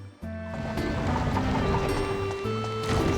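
Steady rushing water from a waterfall in a Dark Cloud 2 dungeon, a continuous wash of sound blended under layered game music with sustained tones, holding evenly loud throughout.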